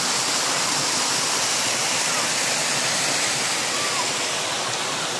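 Sinabahan River water rushes in a dense, unbroken roar, loud and close, steady throughout with no clear voices.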